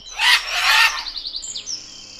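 A parrot lets out loud, harsh squawks followed by a quick run of softer chirps and a rising whistle-like call, close and clear.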